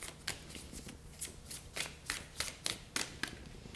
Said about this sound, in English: we're also going to get into our next oracle deck. We're going to shuffle this one a little bit